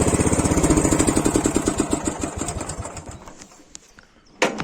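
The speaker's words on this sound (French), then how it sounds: "Et donc, dernière chose, arrêt moteur." A 25-year-old John Deere GX75 lawn tractor engine runs with a steady, near chugging idle, then winds down and cuts off after about three seconds, followed by quiet with a few faint clicks and a sharp knock at the end.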